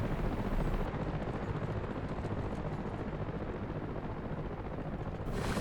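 A Mi-8 Hip helicopter in the combat flight simulator DCS drones with a dense, constant rotor and turbine wash, steady and fairly loud throughout as it flies and comes in to land.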